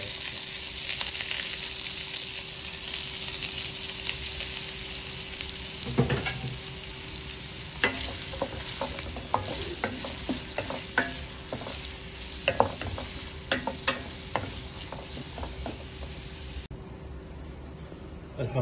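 Three medium chopped onions frying in oil, a continuous sizzle close by with repeated scraping and clacking of a spoon stirring them, no talking.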